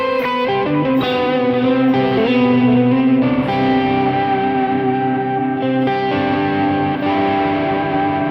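Electric guitar through a Quad Cortex with cape reverb and other reverbs rings out in sustained, layered chords drenched in reverb and echo, each strum blooming and trailing off into a wide wash.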